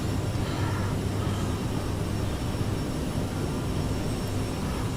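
An Aerosoft CRJ regional jet on its takeoff roll in Microsoft Flight Simulator, a steady, loud, broadband jet engine roar that holds constant throughout with no talking.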